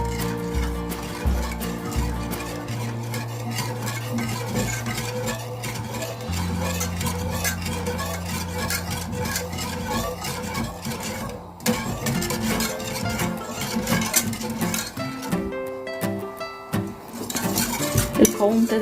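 A spoon stirs muhallabia pudding in a pot, scraping steadily and clinking against the metal over a long stretch, with a faint simmering sizzle and no talking.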